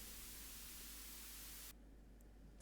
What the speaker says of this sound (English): we have some white noise playing every time the